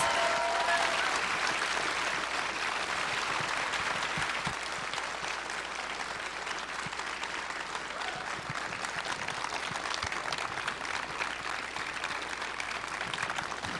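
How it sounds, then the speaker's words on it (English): Convention audience at a Calgary Expo panel for Highlander: The Series applauding steadily and loudly for the whole stretch, a dense wash of many clapping hands with a few cheers mixed in. "Applause."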